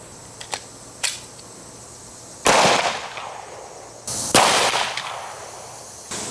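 Two loud .357 SIG gunshots fired into a stack of pine boards, each a sharp blast with a long ringing decay, preceded by a few small mechanical clicks, with no talking.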